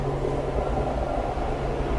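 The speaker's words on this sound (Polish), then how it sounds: "A tam pociąg jedzie." A train rumbles past at a distance near a forgotten cholera cemetery, a steady low droning roar with a faint hum, continuous throughout and without speech.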